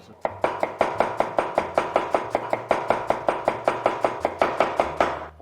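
A broad Chinese cleaver chops napa cabbage on a board in a fast, even rhythm of about twenty crisp, loud knocks, close and without talk.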